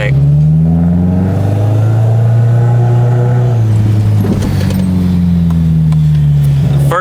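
A 2009 Subaru WRX converted from its EJ255 to a JDM EJ205 engine drives under steady load, its low engine drone rising and falling while voices talk over it throughout.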